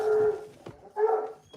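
A pet dog gives two drawn-out howling barks, close and fairly loud, with a short yip between them.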